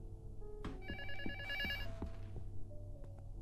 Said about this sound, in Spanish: Está sonando el teléfono allá abajo.